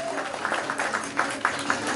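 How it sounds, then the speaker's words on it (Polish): A crowd applauds the visiting GKS Kolbudy team at a fourth-tier Polish football match, with sparse, distant clapping beneath a voice over a loudspeaker. "Wielkie brawa dla naszych gości."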